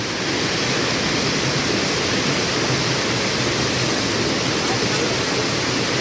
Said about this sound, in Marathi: वरतून तिकडे मोठा धबधबा आहे वरती